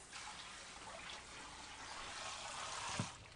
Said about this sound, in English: I'm going to wash the fish.